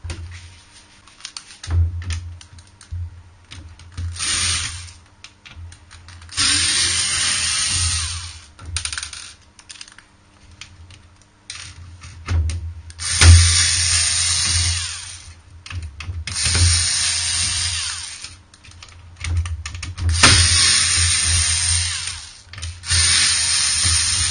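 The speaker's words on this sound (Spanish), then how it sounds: "Ahora a continuación vamos a seguir desmontando, pero son tornillos de cabeza de estrella." Phillips-head screws removed during disassembly: repeated bursts of a power driver or clicking tool, separated by short pauses and handling noise, moderately loud and with no one talking.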